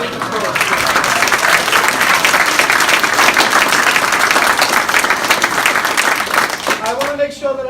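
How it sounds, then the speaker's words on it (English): A school play audience breaks into sustained, dense applause that holds steady for several seconds before tapering off as a voice begins speaking. "So big applause."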